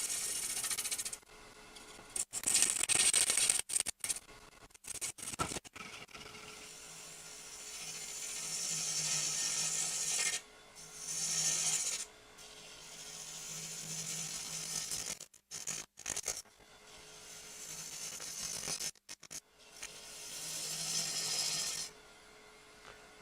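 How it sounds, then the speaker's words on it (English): A small bowl gouge takes light peeling cuts on a wooden urn spinning on a lathe, giving repeated bursts of scraping, hissing wood noise. The cuts are separated by short pauses and quieter stretches. "I think I'm just going to use some peeling cuts with a small bowl gouge."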